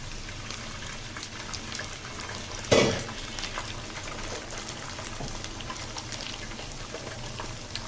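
Dried chilli, chopped garlic, reddened onion and green chilli sizzle in a pan with a steady, bright hiss, broken by one sharp clatter early on, with no one talking.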